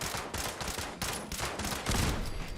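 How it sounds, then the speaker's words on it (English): Machine gun turret in Fallout 76 firing in sustained bursts of rapid gunfire, fairly near and steady, with a heavier volley toward the end and no talking. "Machine gun turrets can be nasty business."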